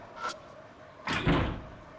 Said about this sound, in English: The door, it's locked. It's a locked door.